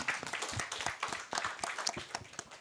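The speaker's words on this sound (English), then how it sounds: "Let's clap for Relon." Conference audience clapping, a dense, steady patter of many hands lasting a few seconds at moderate level, with no speech over it.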